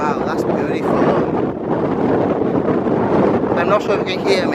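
Strong wind buffets the microphone on a coastal path near St. David's in Pembrokeshire, a loud continuous roar throughout, with a voice faintly audible beneath it.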